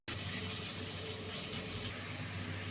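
Water gushes steadily into a cooking pan holding green chillies and vegetables for pachai milagai sambar, a continuous loud pour that eases slightly near the end.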